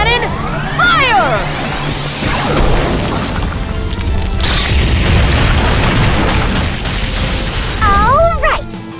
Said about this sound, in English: Endurance cannon, fire!